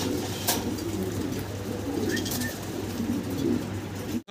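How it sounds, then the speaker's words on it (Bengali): Fancy pigeons, including Mundian, coo in low, repeated murmurs close by, with occasional wing flutters over a constant background hum. "আরও এক পেয়ার চমৎকার আমরা কবুতর দেখাচ্ছি আপনাদেরকে"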